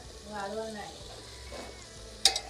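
Cauliflower, green beans, potato and cabbage drop into a hot pan of spiced masale bhaat, giving a soft steady sizzle and frying hiss, with a sharp utensil clink near the end.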